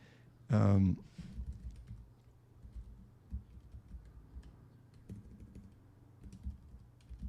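Keys clatter on a computer keyboard in irregular bursts of soft clicks, close and moderately quiet, after a brief loud voice near the start.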